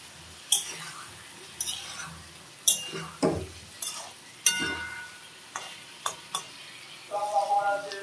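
Duck eggs and potatoes being stirred and fried in a pan, with scattered sharp clinks and scrapes of a utensil against metal over a low sizzle, close by.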